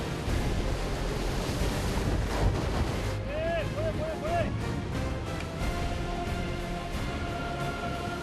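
A fishing boat out for octopus traps off Uljin pushes through rough sea waves, with steady engine drone, splashing hull and wind buffeting the microphone, and a brief whistle-like tone partway through.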